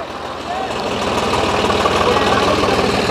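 A Swaraj 744 tractor runs hard in a field, pulling a 9-tine tiller during a tractor competition; its loud, steady engine rumble climbs a notch after the first half second and then holds, with a pulsing low throb.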